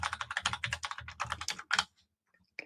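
Rapid typing on a computer keyboard, a quick run of close, crisp keystrokes lasting under two seconds before stopping, followed by a single faint tap.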